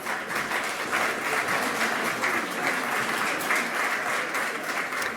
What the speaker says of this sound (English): Another quick round of Thank you. applause for our members of Congress.